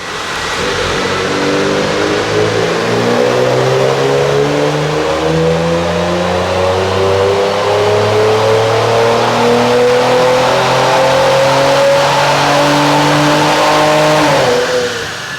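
A tuned 2022 Lincoln Aviator SUV engine on a dyno revs up steadily through the gears, pitch climbing in repeated sweeps before dropping off at the end, sustained and close.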